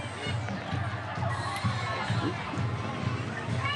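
Spectators in the stands at a Versailles Tigers high school football game cheer and shout in a steady, dense roar, with children's voices and scattered yells mixed into the crowd noise.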